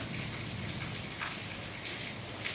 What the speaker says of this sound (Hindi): बारिश अभी तक बिल्कुल भी नहीं रुकी और तेज हो गई है यार।